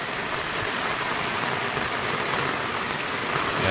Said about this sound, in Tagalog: Isang maulan na araw